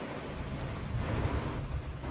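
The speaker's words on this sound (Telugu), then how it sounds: "వర్షం ఫుల్ పడుతుంది" Heavy morning rain pours down in a continuous, dense hiss with low rumbling, steady and enveloping, with no voices.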